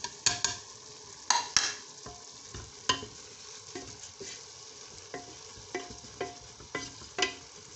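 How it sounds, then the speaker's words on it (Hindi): Minced meat keema with spices fries in a pan for a dhaba-style aloo keema, with a soft sizzle and irregular scraping stirs and clinks from a spoon against the pan. "कीमे को मैंने अच्छी तरह भून लिया है। तो अब मैं इसमें सारे मसाले डालूंगी।"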